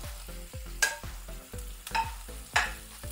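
Carrots sautéing in a pan for lemon rice: a quiet, steady sizzle with a regular series of soft stirring knocks and a few sharper scrapes of the spoon.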